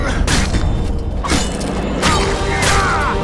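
A bomb explodes in The Witcher 2 during a fight, with repeated loud thudding bursts and mechanical clatter over a dense, roaring battle backdrop.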